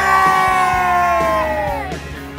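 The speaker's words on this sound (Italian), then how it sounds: "Urlo!" People at a ski club event yell together, a loud sustained group shout with rising and falling tones that fades slightly toward the end.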